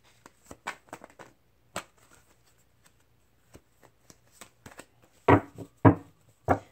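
Tarot cards riffle and tap in scattered, uneven bursts as a stiff, hard-to-shuffle deck is shuffled nearby, with a louder flurry of shuffling toward the end.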